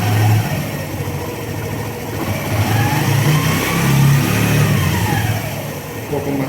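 A small engine revs hard and steady to around 6000 rpm while its stator coil is tested, the mid-pitched drone rising and falling slightly up close as someone speaks briefly over it.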